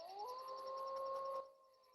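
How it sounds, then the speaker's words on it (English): A single sustained howl from a wolf pack in the Yellowstone wilderness rises in pitch at the start, then holds a steady tone before cutting off, leaving a faint fading tail, heard alone at moderate distance. "You've got packs of wolves which howl."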